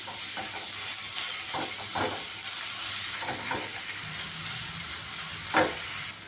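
Prawn paste frying in a pan with onion and garlic paste, a steady broadband sizzle running throughout with occasional stirring scrapes and a brief louder spatter near the end.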